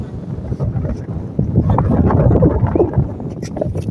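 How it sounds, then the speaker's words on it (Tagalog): Strong gusty wind in Kuwait buffets the microphone in heavy low rumbling bursts, with muffled voices and movement underneath. "Ang lakas kasi ng hangin."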